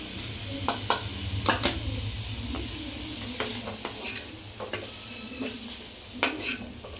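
Moringa greens being stirred in a hot frying pan, with a steady sizzle and scattered scraping taps of a spoon against the pan.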